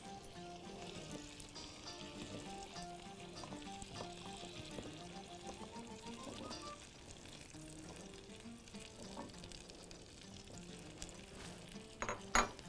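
Carrots sauté in a pan with a soft, continuous sizzle, quiet and even throughout, while faint background tones and a brief clatter come near the end.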